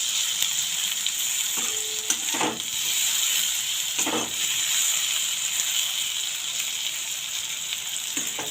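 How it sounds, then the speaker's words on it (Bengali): Steady hiss and crackle of eggplant frying in hot oil, close up, with a couple of brief spatula scrapes against the pan. "দেখুন বেগুনটা ভাজা হয়ে আসছে।"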